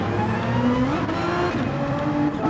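Race car engine in Gran Turismo 7 during a daily race, a steady loud drone with rising and falling pitch as the car accelerates and shifts, continuous and close with no talk.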